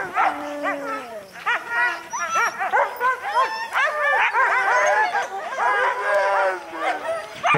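Excited sled dogs whine, yip and cry in a continuous, overlapping chorus before being harnessed, loud and close with rising and falling wavering tones and no clear human speech.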